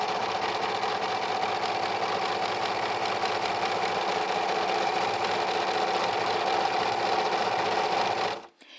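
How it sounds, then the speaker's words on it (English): An American Home serger sews a three-thread narrow hem in a fast, even, continuous mechanical whir heard up close. It runs for several seconds and then stops abruptly. "I'm going to begin by holding on to the edge of my thread as I introduce the fabric into the machine."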